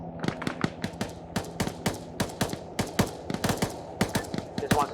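Gunfire from the video game ArmA 3 sounds as rapid bursts and single shots that crack out close and loud, in an uneven rhythm with no talk.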